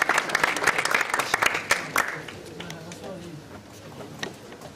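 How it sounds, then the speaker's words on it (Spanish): A conference audience gives applause to a presenter at the JIAP 2012 event. Strong clapping at first fades away over a few seconds, leaving scattered claps, and then a voice speaks briefly. "Fuerte aplauso."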